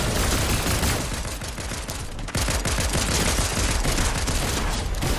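Pulse rifle fire in the video game Fortnite: rapid, sustained bursts of automatic gunfire, loud and continuous with a brief dip near the middle before resuming.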